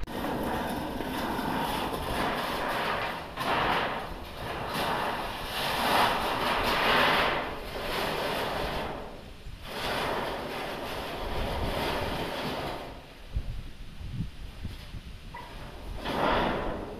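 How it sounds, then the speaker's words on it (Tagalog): Strong wind buffets the microphone outdoors at a building site with metal roofing sheets, making a loud, continuous roaring rush that surges and eases in gusts and drops briefly near the end. "Grabe kasi talaga yung lakas ng hangin dito"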